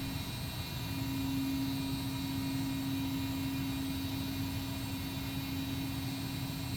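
Cessna Citation II jet engines in the X-Plane 11 flight simulator drone at a steady, moderate level, with an even low hum and a sustained whine running throughout.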